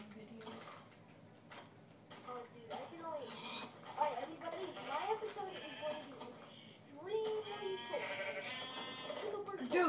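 Sheep bleat repeatedly in a Minecraft survival game on Xbox 360, with several short bleats scattered throughout and a person talking over them nearly the whole time.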